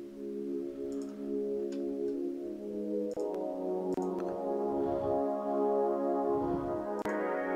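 A string section of a music production plays sustained, layered chords alone, smooth and continuous, with a few faint clicks and ticks over the top.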